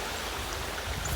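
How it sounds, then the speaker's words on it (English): A river runs with a steady broadband rush of water that is continuous and fairly close, with no other sounds standing out. "of course running water kind of all around you"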